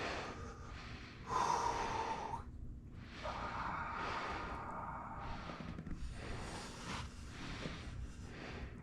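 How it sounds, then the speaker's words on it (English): Deep breaths during a foot massage come as slow, forceful nasal inhales and exhales up close, a few long airy rushes in a quiet room. "Good breathing."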